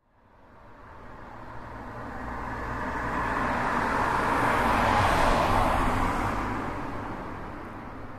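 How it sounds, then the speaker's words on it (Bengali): A Toyota Mark 2 car is driven, its engine and road noise swelling from quiet into a steady, broad rumble that holds close and loud before easing slightly, with no talking. "আমরা তাহলে গাড়িটা একটু চালায় দেখি।"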